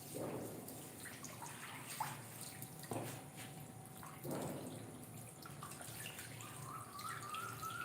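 Water is poured into a cooking pot being filled to boil a pork leg, with a few distinct splashing pours and drips against a quiet kitchen background.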